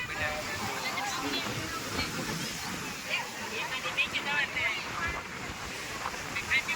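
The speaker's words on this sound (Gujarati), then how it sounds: "આ રુદ્ર સ્વરૂપ દરિયો છે અને બહુ ગજબનું છે" Rough sea surf breaks and rolls steadily at Mastram Dhara on the coast, a continuous wash of crashing waves mixed with wind noise and a voice talking over it.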